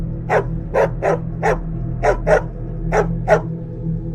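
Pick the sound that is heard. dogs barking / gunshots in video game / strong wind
dogs barking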